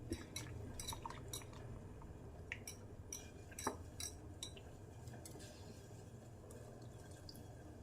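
Ragi flour is stirred into half a cup of coconut milk for ragi halwa. A spoon clicks and taps steadily against the bowl with soft wet sloshing, quiet and close, and no one speaks.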